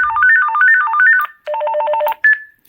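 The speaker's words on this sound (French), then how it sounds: "Il y a plusieurs sonneries différentes" Several electronic ringtone patterns from an AWANFI rechargeable walkie-talkie play in turn: a rapid warbling two-tone trill, a brief pause, a second lower alternating trill, then a short single beep, all clear and close with no talking.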